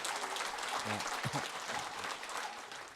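Big applause from a hall audience at a Buddhist dharma assembly in a hotel ballroom, a dense steady wash of clapping with a few low voices murmuring underneath.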